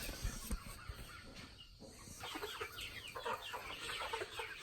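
Several meat chickens cluck and chatter nearby in a busy, uneven stream, with scattered knocks and rustling in the pen at morning feeding on a homestead.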